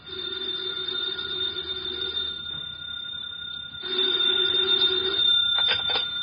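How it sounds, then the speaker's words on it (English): An old-style house telephone rings in a radio drama, two bursts of a bright, trilling bell, clear and fairly loud with no talking over it. "the phone in the Lawrence house on Berry Hill Lane began to jingle"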